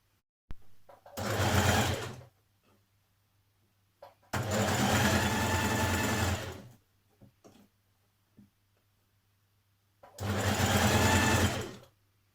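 A sewing machine hems a tiny double fold on the sleeve of a jersey dress, running in three separate loud, steady bursts close by with quiet pauses between.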